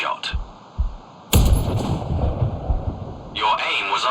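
A sniper rifle in the game Sniper Ghost Warrior Contracts fires one loud, sharp shot, and its booming tail rolls on for a few seconds. A few faint clicks come before the shot.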